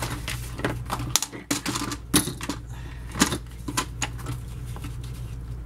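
Paper being cut for a scrapbook album gives a series of sharp clicks and snips with irregular rhythm, close by and fairly quiet over a low background hum.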